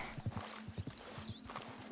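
Horse hooves clip-clop in a steady rhythm close by, with a faint whinny rising briefly partway through, in the video game Red Dead Redemption 2.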